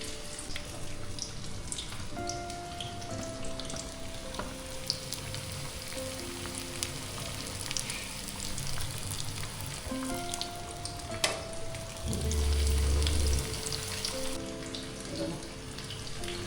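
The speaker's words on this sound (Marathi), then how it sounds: "हे सगळं मी असं तळून घेते" Prawns coated in semolina frying in hot oil for prawns Koliwada, a steady close sizzle with scattered pops and a brief louder burst, continuous throughout.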